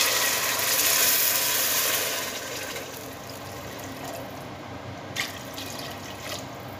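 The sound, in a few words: pouring water over lentils in a pot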